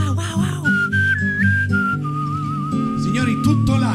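Live open-mouthed diaphragm whistling of a film theme rings out in long, gently vibrato notes stepping through the melody over soft orchestral backing, close and clear, with short musical passages between phrases.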